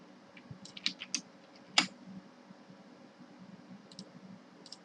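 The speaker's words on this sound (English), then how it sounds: "I'm going to type in red" Quiet computer keyboard typing, a few scattered key clicks and taps against a faint steady hum, close but soft.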